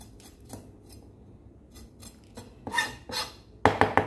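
A knife cuts a red chili in half on a board for a vegetable salad, giving a few soft scattered taps and then a cluster of sharper, louder clicks at the end.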